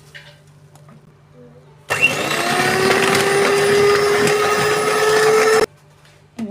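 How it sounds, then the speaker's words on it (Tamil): An electric mixer beats white and brown sugar for fudge brownie batter, whirring loudly and steadily for about four seconds with a rising whine, then cutting off into quiet room tone. "சுகரும் ப்ரௌன் சுகரும் நல்லா பிளெண்ட் ஆகி கரைகிற வரைக்கும் கொஞ்சம் நல்லா பீட் பண்ணிக்கலாம்."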